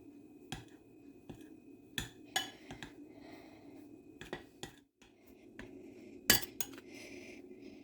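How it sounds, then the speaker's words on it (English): A spoon clinks and scrapes against a bowl while Christmas cookie dough with icing sugar is stirred, giving a series of sharp, irregular metallic taps and clacks at close range over a quiet background. "Now I'll mix it all together."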